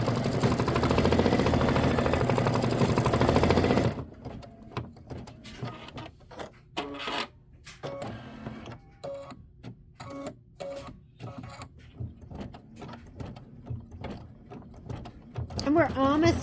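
Embroidery machine stitching a quilt tack-down, first a dense steady mechanical whir, then a run of rhythmic clicking, ratcheting stitch bursts and pauses, close and moderately loud.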